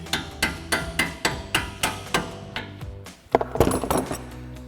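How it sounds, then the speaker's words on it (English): Hammer blows tapping a strut bolt during a front strut install on a 2012-2019 RWD Dodge Challenger, about ten evenly spaced sharp metallic strikes close by, then a louder clanking scrape of metal. "If you need to, grab your hammer, just give it a tap."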